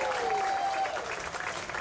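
At an outdoor summer concert on the green, a crowd applauds a trumpet player from Niantic, Connecticut, the clapping moderate and somewhat distant, with a sustained tone at the start.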